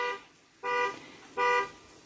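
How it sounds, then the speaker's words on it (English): Outside an apartment, a car alarm sounds in two steady, sustained tones about a second apart, mid-distance and fairly loud against a quiet room. "Somebody in the apartment has their car alarm going off."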